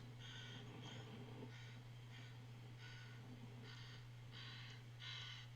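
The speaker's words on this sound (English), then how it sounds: "Oh, you can hear the adults, crows." Adult crows near a White Rock eagle nest give repeated harsh caws in a series of rhythmic bursts, fairly distant and faint, over a steady low hum.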